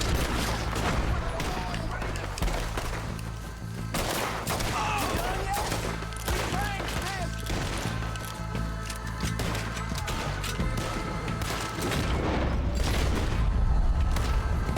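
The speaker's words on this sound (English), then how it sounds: "I love the dual wielding the pistols, it's so badass." Dual-wielded pistols fire in rapid bursts in Red Dead Redemption 2, sharp cracks ringing out one after another over game background noise, with a voice talking over parts of it.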